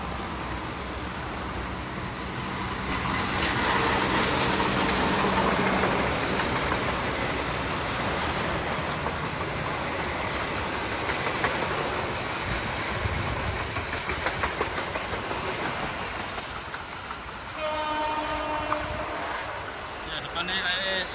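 CC201 diesel locomotive hauling a train along the rails, a steady rumbling roll with rail clatter passing at moderate distance, fading toward the end where voices talk briefly.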